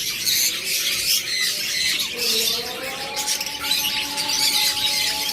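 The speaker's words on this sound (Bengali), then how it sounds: "রয়েছে জাপানিজ বাজরিগার, একদম রানিং জাপানিজ বাজরিগার, খুব সুপার কোয়ালিটির" Japanese budgerigars chatter and squawk together in a continuous bright, noisy jumble, with a few longer warbling calls rising above it.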